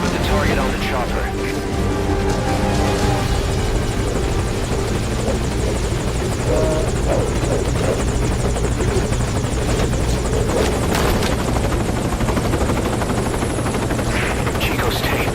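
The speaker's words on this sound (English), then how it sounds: "Put the target on the chopper." Helicopter hovering at the landing zone in Metal Gear Solid V: Ground Zeroes, its rotor and engine drone loud and steady through the whole stretch, with voices and game sounds mixed over it.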